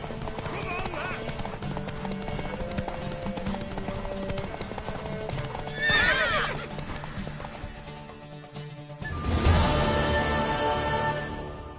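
Horse hooves clatter at a gallop beneath a busy music bed in The Witcher 3 video game, with a mare's high whinny rising briefly midway and a louder surge of hoofbeats and noise near the end.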